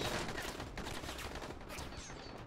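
Rapid burst of gunfire in the zombie video game Dying Light, a dense crackling volley of shots filling the whole moment at moderate level, without speech.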